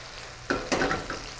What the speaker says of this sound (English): we're waiting to hear a sizzle. Do you hear a sizzle? I hear a sizzle.